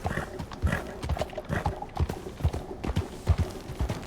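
Horse hooves clip-clopping in Red Dead Redemption 2, a steady run of close, loud thuds at an uneven trotting rhythm with no talk over them.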